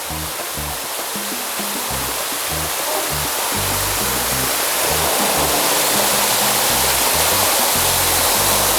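A waterfall at a cold-water swimming spot in San Miguel, El Salvador roars close by, a loud continuous broadband rush that swells slightly and never lets up.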